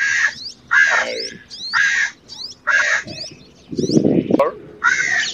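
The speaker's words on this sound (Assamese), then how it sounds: "ইংৰাজী নামটো হ'ল পাৰ্পল ছানবাৰ্ড, আৰু এই পাৰ্পল মানে হ'ল বেঙুনীয়া।" A purple sunbird calls in a rapid series of sharp, high, buzzy chirps that repeat in quick bursts, close and loud, with a brief low rustle partway through.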